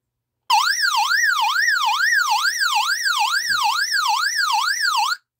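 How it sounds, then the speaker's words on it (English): SOS alarm on the XHDATA D-608 emergency portable radio, a loud, close electronic siren that sweeps up and down in a steady, rapid wail for about five seconds and then cuts off abruptly. "this one will not only sound the alarm, but it'll activate a red light"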